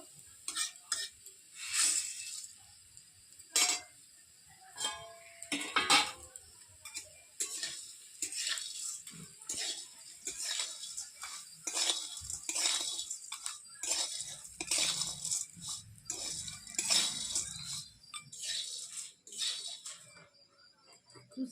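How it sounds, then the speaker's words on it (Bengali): Choosi pithe and vegetables being lightly fried in ghee, with repeated stirring and scraping clatter of a utensil against the pan over a soft sizzle, steady and close with no talk. "সবজিগুলো সব ভাজা হয়ে গিয়েছে খুব বেশি ভাজবো না বললাম একটু গরম করে নিলাম ঘিতে"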